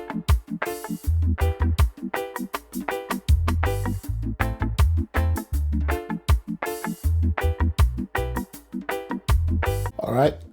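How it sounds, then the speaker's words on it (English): Reggae guitar played through a wah effect in Logic Pro X gives choppy, rhythmic chords with a funky filtered sweep, steady strums over a repeating pattern, loud and close. "so I'm gonna let you hear the sound of how the wah sounds now."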